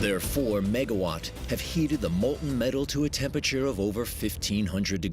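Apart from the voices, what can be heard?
No distinct noise like a dog, phone or traffic.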